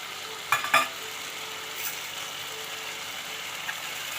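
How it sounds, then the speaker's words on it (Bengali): Food stirred and fried in a pan at home, a low steady sizzle broken early by a few quick metallic scrapes and clinks of the spatula, then mostly even frying with an occasional light knock. "নেড়ে চেড়ে কষিয়ে নিচ্ছে"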